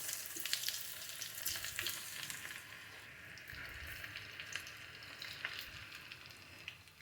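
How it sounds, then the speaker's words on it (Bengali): French fries frying in hot oil in a home kitchen, a continuous soft sizzle and bubbling crackle at moderate distance, steady throughout with occasional stirring clinks and no talking. "এভাবে ফ্রেঞ্চ ফ্রাই করলে অনেকক্ষণ মসমস থাকে"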